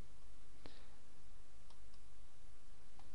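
A few crisp computer mouse clicks, one sharp and close near the start and two or three softer ones later, set against a steady low hum of room noise, with no talking.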